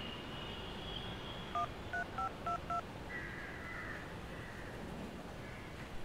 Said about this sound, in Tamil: இரு ஃபோன் அடிக்கிறேன்.